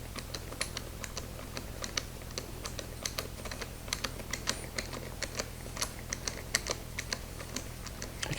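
A 7/16 socket ratchet tightens a valve stem on a tire, giving a long run of quick, light, even clicks close by over a low background hum.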